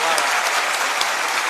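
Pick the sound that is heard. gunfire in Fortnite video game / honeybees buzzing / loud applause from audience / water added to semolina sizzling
loud applause from audience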